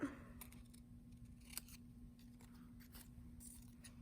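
Scissors snip through paper in a quiet room during a paper architecture craft, with several crisp cuts at an uneven pace, close but soft, and no talking.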